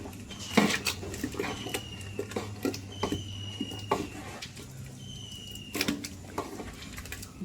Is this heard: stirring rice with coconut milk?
yes